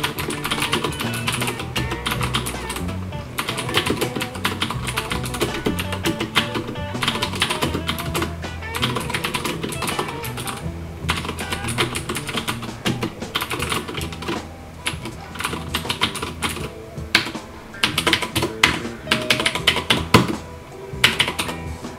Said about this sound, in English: please do enjoy the clicky voice of the keyboard itself.